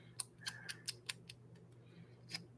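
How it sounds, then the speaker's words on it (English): Scissors handled and snipped in a mixed media art session, giving a string of faint, sharp clicks and metallic snips at irregular intervals over a low background hum. "Can you put those freaking scissors down now?"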